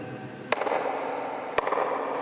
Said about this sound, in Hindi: यहाँ ताली बजाएं तो एक आवाज़ आती है